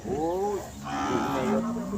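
Cattle low loudly at a busy Thai cattle market, with a close, drawn-out moo followed by a second deeper call over a constant noisy crowd background.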